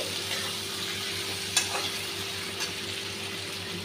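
Spice paste frying for a Katla fish curry with drumsticks and potato: a constant, faint, even sizzle with a couple of brief stirring clicks.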